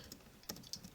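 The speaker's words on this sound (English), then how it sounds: "what was that typing?" Soft, faint clicks of a computer keyboard being typed on, a few quick irregular keystrokes over a quiet background with no talking.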